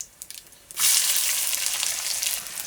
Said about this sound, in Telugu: నూనె వేడెక్కగానే ఆల్ మసాలా దినుసులు వేసేసుకుందాం కోసి పెట్టుకున్న రెండు మీడియం సైజు ఉల్లిపాయలు కూడా వేసేసుకుందాం